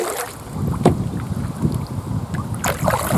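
Kingfisher kayak gliding on open water, soft paddle splashes and water lapping under gusty microphone wind noise, close and fairly quiet.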